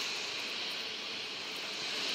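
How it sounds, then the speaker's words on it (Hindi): A helicopter in a combat video game flies overhead as a steady, fairly faint broadband engine and rotor roar, continuous and unchanging with no talk over it. "यहाँ पे हेलीकॉप्टर आती है।"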